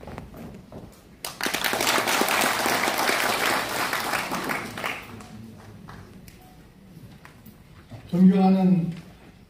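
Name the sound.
applause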